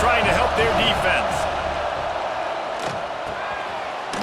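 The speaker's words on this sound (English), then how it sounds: "Listen to this crowd just shaking the girders of this place, trying to help their defense." Stadium crowd roaring at a college football game, Catholics vs Convicts, a dense, loud, sustained wall of voices filling the space with no gaps, swelling slightly early then holding steady.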